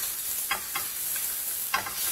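Ground beef frying in a pan for a Tunisian spinach tagine, a constant close sizzle broken by a few short scraping stirs, no talking.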